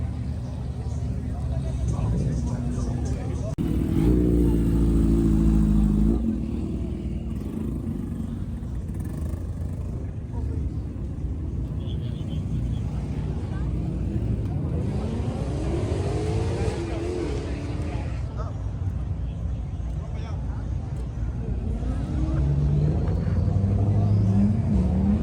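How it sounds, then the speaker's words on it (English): A straight-piped Lamborghini SVJ on a city main strip revs and rasps through several loud throttle bursts and rising engine sweeps, close by, with people talking throughout. "Those turbos are loud."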